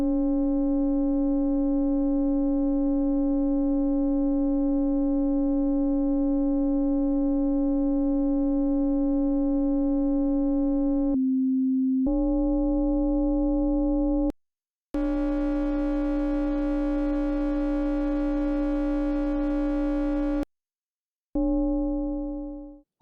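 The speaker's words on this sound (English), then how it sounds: "Let me try it with the combinations sine wave modulates triangle versus triangle modulates sine wave." A Voltage Modular Zeroscillator sounds sine and triangle waves modulating each other: a loud, steady buzzing tone with strong harmonics that shifts in pitch and timbre in distinct blocks, broken by short gaps, with one brighter, richer section in the middle.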